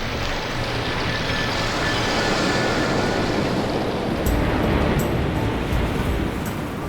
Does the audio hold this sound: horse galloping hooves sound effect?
no